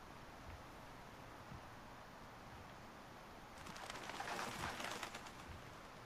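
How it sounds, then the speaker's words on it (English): Ambient birds cooing in the video game A Quiet Place: The Road Ahead, a soft steady outdoor bed that swells louder and busier in the latter half, with no talking. "Shut up, birds."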